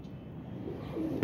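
A teddy female pigeon coos softly and continuously, a low, murmuring call held steady at close range with no talk over it.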